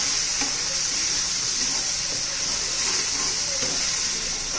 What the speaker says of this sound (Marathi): चांगलं तेलामध्ये आपण परतून घेणार आहोत